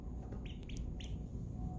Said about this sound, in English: A few little peeps.